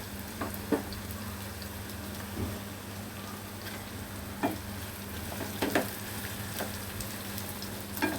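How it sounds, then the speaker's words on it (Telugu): Onions frying in ghee in a pan, a steady close sizzle with faint low hum and scattered small ticks and clinks of a utensil throughout. "ప్యాన్ పెట్టుకొని బ్రౌన్ ఆనియన్స్, బ్రౌన్ కలర్ వచ్చినంత వరకు ఆనియన్స్ వేపుకోవాలి."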